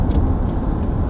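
A Lexus RX 450h hybrid car running on electric power gives off a steady low hum and whirr, continuous and fairly subdued, with no talking over it.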